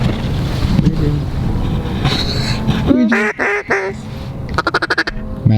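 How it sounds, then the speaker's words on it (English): Mallard ducks quack in a series of loud, nasal calls during a waterfowl hunt, with wind buffeting the microphone; bursts come in short repeated runs, the last a rapid string of quacks. "3 mallards out front."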